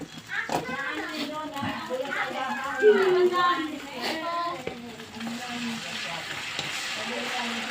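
Sisig frying on a hot griddle as it is stirred, ketchup and egg being added, with a steady close sizzle and scraping under loud street-stall chatter and background voices.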